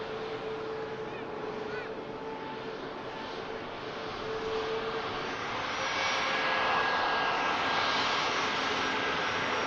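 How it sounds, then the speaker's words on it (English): Jet aircraft taxi at Manchester Airport, a broad steady engine roar heard from a distance that swells louder in the second half. "these two aircraft should have space to cross over as well"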